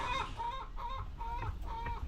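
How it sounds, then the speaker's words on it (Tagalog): Several native chickens clucking steadily at close range while being fed, with repeated bursts of clucks over a low rumble of background noise. "nagpakain lang ako ng aking mga lagang manok ngayon"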